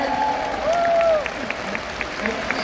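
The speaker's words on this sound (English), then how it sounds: "let's give them a round of applause" A large event crowd welcomes first-time attendees with sustained applause, a dense steady roar of clapping under cheering and tonal voices, continuing for a few seconds without a break.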